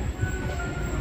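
A train rolls past Pennsylvania Railroad Suburban Station in an underground rail setting, giving a steady, loud rumble of wheels on track with a faint high squeal running through it.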